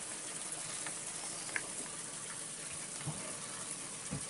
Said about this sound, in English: constant running water